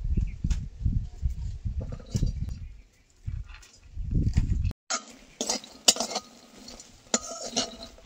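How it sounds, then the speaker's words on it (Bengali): Garlic cloves are tipped into a dry wok with a brief clatter and light clinks after a stretch of talking, followed by faint scraping and rattling in a village kitchen. "এবার রসুন ভর্তা করার জন্য শুকনো কড়াইতে রসুনগুলো ঢেলে নেব।"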